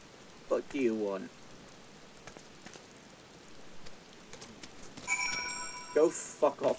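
Steady rain patters in Final Fantasy XIV, a faint continuous hiss of drops on surfaces beneath a talking voice and brief chiming game tones.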